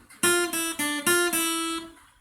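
Lead guitar picks the Bella Ciao melody from Money Heist as five clear, close plucked notes in a steady rhythm, the last one ringing out and fading.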